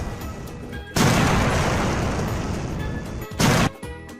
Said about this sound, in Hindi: मशीन के अंदर पड़े बर्तन धड़ाम धड़ूम की आवाज़ से टूटने लगते हैं